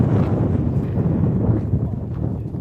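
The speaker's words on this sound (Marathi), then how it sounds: "वारं इतकं भारी सुटलंय आहे" Strong wind blows at Shivneri fort, buffeting the microphone in a continuous loud low roar.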